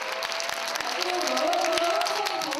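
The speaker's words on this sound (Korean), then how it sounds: "감동한 관중들에게서 앙코르가 터져나옵니다." A concert audience applauds after a musical performance, steady dense clapping filling the space with crowd noise, close and fairly loud throughout with no talk.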